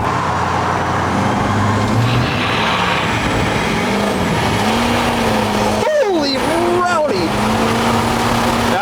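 A diesel truck with oversized injectors, two-wheel drive, accelerates hard from a standstill to 60 mph, its loud engine note climbing through several gear shifts while a voice talks over it.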